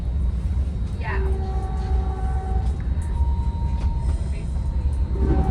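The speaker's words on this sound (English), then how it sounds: "There's Caltrain 413 passing by." Caltrain 413, a northbound limited-stop commuter train, rumbles past a station with a steady heavy low roar and faint wheel squeal tones, continuous throughout.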